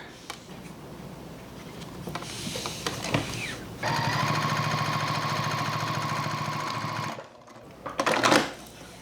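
A sewing machine top-stitches a folded DIY card-slot wallet, its steady mechanical whir running in a loud continuous stretch, with shorter bursts before and a brief burst near the end after a pause.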